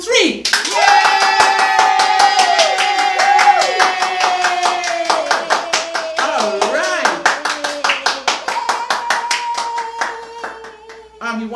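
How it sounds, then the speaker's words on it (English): Hand clapping during a children's puppet show, starting under a sustained cheering, singing voice and turning into crisp, rhythmic close claps that quicken and grow sharper before stopping abruptly. "let's clap our hands for them"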